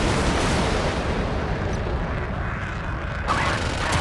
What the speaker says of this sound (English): Missile silos are ready for launch.